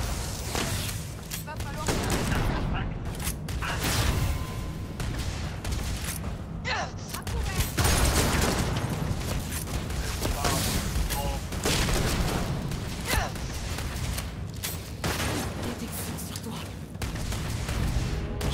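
Grenade blasts and bursts of gunfire from the video game Starfield rattle on in a dense, continuous barrage of booms and shots, while a player speaks over the action throughout.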